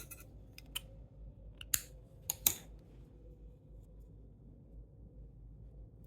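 Scissors snip crochet thread while finishing a handmade hoop earring, a few sharp, close clicks and cuts over a quiet low background hum.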